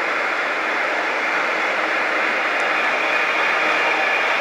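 A two-coach train at Lincoln Central station gives off a steady, even rumbling hiss that stays constant for the whole stretch with no clear onset or fade.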